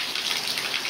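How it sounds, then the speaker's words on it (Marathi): Nonstop heavy rain falling during the first day of the Ganesh festival makes a brief, even, bright hiss with no voices over it. "पाऊस एवढा पडतोय, पाऊस पडतोय नॉनस्टॉप"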